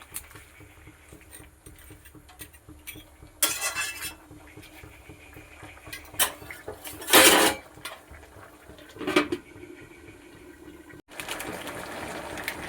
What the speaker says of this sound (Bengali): তরকারিটা ফুটছে, একটু নেড়ে চেড়ে দিই